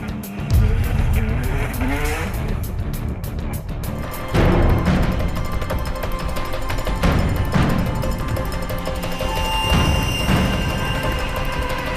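Drift car on a time attack run up a mountain hill course at a drifting event, with a loud engine roaring and revving under strain and tires squealing, continuous for the full span.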